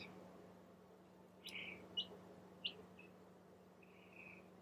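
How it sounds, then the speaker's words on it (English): A small bird chirps from a distance in a quiet indoor setting, giving a few short separate calls and a softer trill over a steady low hum. "I'm hearing a little bird going."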